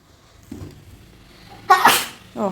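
A single sharp sneeze bursts out close by after a brief inhale, followed by a short vocal sound.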